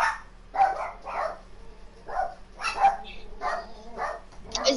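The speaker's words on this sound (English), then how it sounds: "That sounds like my second dog when they just woke up." A small dog yips and barks in short bursts, several times in a row, close and fairly loud against a quiet indoor background.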